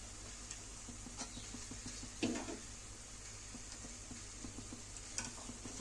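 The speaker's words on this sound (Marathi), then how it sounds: "तर हे आपले वडे जे आहे किती छान तळत आहे बघू शकता" Medu vada, urad dal fritters, fry in hot oil with a steady, faint sizzle and soft scattered ticks and pops, plus one brief louder crackle midway.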